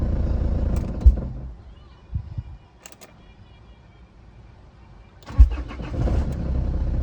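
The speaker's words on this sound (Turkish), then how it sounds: "Çok rahat bir şekilde marş bastı arkadaşlar." A car engine cranks and catches, started with a MIOJI 4in1 jump starter, then idles loudly close by; a second start with a sharp crank follows after a quieter pause.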